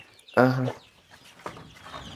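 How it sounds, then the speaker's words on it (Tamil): Native country chickens cluck close by: one loud, throaty call followed by a softer second cluck, with a brief quiet gap between them. "நாட்டுக்கோழி எல்லாம் நாட்டுக்கோழி"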